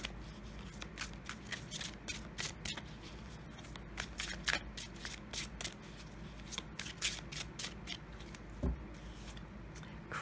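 Close, continuous riffling and shuffling of a tarot oracle card deck, crisp fluttering card snaps in irregular bursts over soft room noise, no talking.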